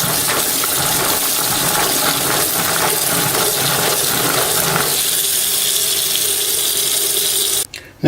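Tap water runs steadily into a sink as dried beans for Jamaican rice and peas are rinsed, a loud continuous splashing that stops abruptly near the end with a brief clatter.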